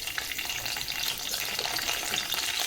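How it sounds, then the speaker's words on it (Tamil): Curry leaves crackle and sizzle loudly in hot oil, a dense, steady frying hiss with sharp pops throughout. "எண்ணெய் சூடாயிடுச்சு, கருவேப்பிலை ஆட் பண்ணிக்கோங்க."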